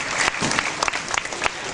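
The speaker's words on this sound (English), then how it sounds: "let's give him a big round of applause" Audience applause at the Spirit of the Tiger show at Six Flags Great Adventure, a steady burst of crowd clapping with a few sharper claps standing out, loud and close throughout.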